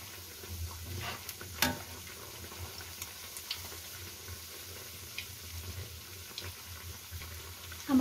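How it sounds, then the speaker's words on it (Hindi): Potato bread cutlets fry in a pan, making a faint, steady sizzle broken by occasional clinks and scrapes as they are turned. "हमारे कटलेट्स फ्राई हो रहे हैं।"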